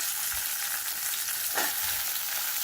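Eggplant pieces sautéing in a hot pan for a Tamil tamarind curry with mango and drumstick, giving a steady close sizzle and frying hiss throughout, with one brief stirring scrape midway.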